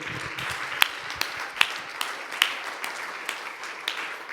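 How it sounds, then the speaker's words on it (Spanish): In a church service, a small congregation gives sparse, scattered claps at uneven intervals, a few sharp hand-claps standing out against a quiet, faint room. "Démosle un aplauso al Señor Jesucristo en esta tarde."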